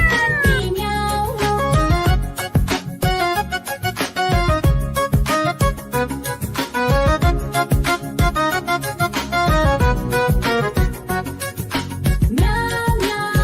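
A voice sings repeated meows in a Hindi children's rhyme about a cat, imitating the cat's cry over busy, loud musical accompaniment throughout.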